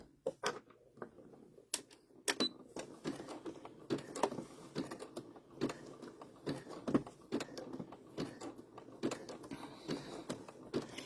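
A sewing machine stitches appliqué apples onto a dish towel in short, quiet bursts of rapid clatter broken by brief pauses; there is no talking.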